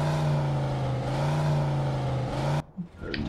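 Steady engine drone of a Jefferson Provincial car in the video game Mafia II, a sustained mid-level hum that holds for over two seconds before cutting off abruptly into quieter game ambience.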